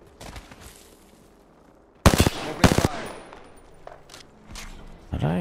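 Two sharp bursts of automatic gunfire ring out close in an Apex Legends match, a first quick volley followed half a second later by a second, then fainter distant shots and a final burst at the end.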